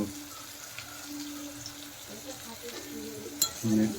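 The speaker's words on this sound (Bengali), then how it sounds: "আবার দেখে আবার একটু নেড়ে নেব আমাদের টমেটোর আর পেঁয়াজ কষি নিচ্ছি" Tomato and onion frying in oil for a Bengali mutton curry with potatoes, giving a low, steady sizzle with soft stirring, and a sharper clatter of a spoon near the end.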